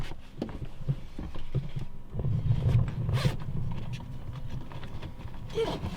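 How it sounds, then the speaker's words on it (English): A zipper is drawn along a fabric insulation cover on a camper window, giving a raspy run of ticks that tightens into a quick burst midway, with soft handling rustles around it. "zip this down"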